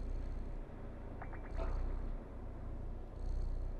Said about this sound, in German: Sehr süßes Schnurren.